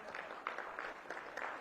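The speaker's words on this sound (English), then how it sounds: "All right, clap it up for this young man." Brief, faint applause from the audience at a community listening session, a soft wash of clapping for a young man.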